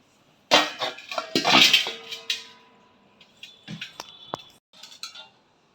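Antique metal pots and an old 10.5-inch fish-curry pot knocked and handled, giving a burst of bright clinks and clanks near the start, then lighter scattered taps and a ringing tone fading out.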